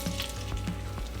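Unsalted butter melting in a pan makes a short, soft sizzle with faint crackles, heard close and on its own.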